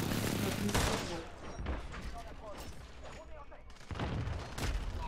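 Enemy gunfire in a shooter game with a golden axe melee weapon: bursts of rapid shots and sharp cracks in several clusters, loud and close, while someone talks over the shooting.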